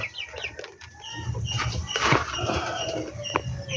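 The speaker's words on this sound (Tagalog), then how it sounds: "yung isang manok na naglilimlim din" A brooding hen sitting on her eggs at a farm gives a series of low, close clucks and grumbling calls, with faint rustling in the background.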